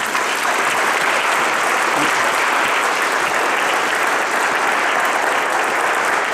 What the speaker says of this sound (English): Round of applause as we invite you to the stage